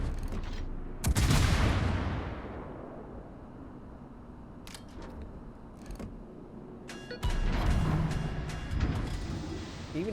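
Naval guns boom in a warship video game, with a heavy blast near the start, a quieter stretch of distant rumbling and sharp cracks, then another loud salvo of gunfire toward the end.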